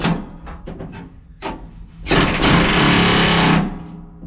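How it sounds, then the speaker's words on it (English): An air hammer cuts rusted, rotted spot welds on a 1973 GMC truck cab, first in a few short stuttering taps, then in a loud, continuous rattling burst of about a second and a half that stops abruptly. "I'm just gonna get the old air hammer in there and get it up under there and cut them off that way."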